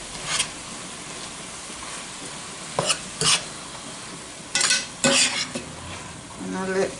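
Shepherd's pie filling fries steadily in a pan with a low continuous sizzle, broken by several short louder scrapes and clatters from stirring, no voices.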